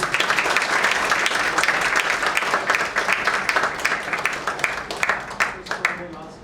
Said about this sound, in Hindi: तो थोड़ा सा तालियां भी बजाएं।